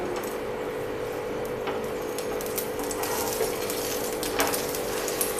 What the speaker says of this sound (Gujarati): ઉપરથી આપણે આ રીતે થોડું એવું તેલ ઉમેરી અને પરોઠા શેકી લેશું